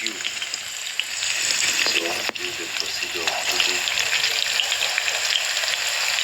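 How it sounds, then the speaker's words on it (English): Onion and capsicum sizzling and crackling steadily in hot oil, close up, with occasional stirring scrapes and a brief murmur of voice in the background. "My onion and my capsicum are ready on oil, frying."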